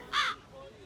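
One short, loud, harsh caw from a crow cuts through quiet background noise, followed by a faint hum.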